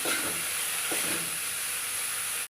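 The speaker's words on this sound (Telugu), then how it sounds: "ఇప్పుడైతే మనం బీరకాయ పొట్టుని వేసుకోవాలి. పొట్టుని బాగా ఫ్రై చేసుకోవాలి." Ridge gourd peel frying in hot oil gives a dense, steady sizzle with a soft stirring scrape partway through, heard close for a couple of seconds before cutting off abruptly.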